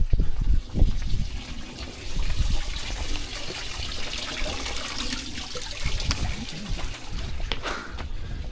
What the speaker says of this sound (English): Fresh water everywhere